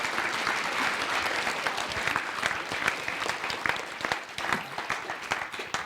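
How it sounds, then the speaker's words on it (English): An audience at an art-world panel discussion gives sustained, dense applause, with many hands clapping evenly throughout and no talking. "we should give Wael a big round of applause"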